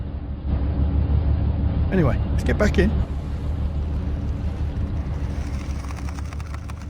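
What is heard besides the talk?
ship engine running in video game Nautic XP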